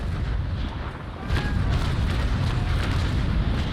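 Cannon broadside from a sailing warship in the naval video game Naval Action: heavy booms roll out over a constant dense rumble of battle and sea noise, with a sharper salvo swelling at about a second and a half.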